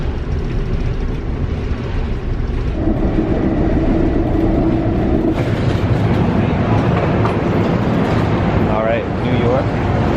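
Inside an Amtrak Pennsylvanian train rolling from Newark toward New York, a loud, constant rumble of wheels and carriage fills the space while people talk over it.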